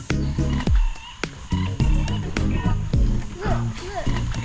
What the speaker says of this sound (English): You could hear these frogs